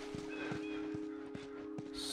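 Horse hooves clip-clopping in The Last of Us video game, a steady walking rhythm of soft thuds roughly every half second under a low constant hum, no talk.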